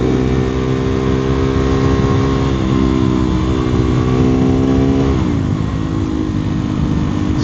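A KTM Duke 390 Gen 3 motorcycle on an Oregon road accelerating to pass traffic, its engine loud and close with rising revs, a gear change and a steady climbing whine, with no talk.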